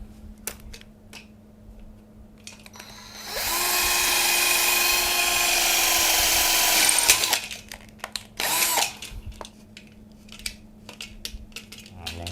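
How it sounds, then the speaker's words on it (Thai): A power drill bores a hole into the metal frame of a broken folding tent during a repair, with a steady high whine for about four seconds, then a short second burst, amid light clicks and handling noises. "มาเรามาเจาะรูอีกตัวกัน"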